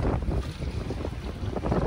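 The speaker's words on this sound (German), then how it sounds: "25 Knoten Wind hatten wir jetzt beim Ablegen." Strong wind of about 25 knots roars and buffets the microphone aboard a sailboat in the Cyclades, with water rushing against the hull beneath a steady, loud blustery noise and no talking.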